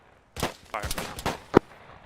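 Gunfire in a military video game operation: several sharp, close bursts of shots follow one another quickly over about two seconds, with one louder crack near the end.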